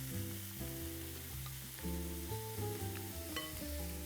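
Meat renders in a hot pan until crispy, giving a steady, close sizzle and crackle that runs throughout beneath soft background music.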